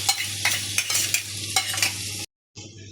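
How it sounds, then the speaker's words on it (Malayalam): Spatula scraping and stirring through frying onions with crushed ginger and garlic in a pan, sizzling steadily with repeated scrapes, a short silent gap, then the sizzle returns. "അപ്പോൾ അതിലേക്ക് നമുക്ക് ചതച്ച് വെച്ച ഇഞ്ചി വെളുത്തുള്ളി ഇട്ട് കൊടുക്കാം കേട്ടോ"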